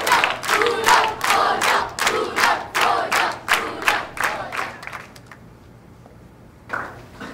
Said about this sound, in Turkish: Tezahürat yapın, alkış yapın, bir şey yapın.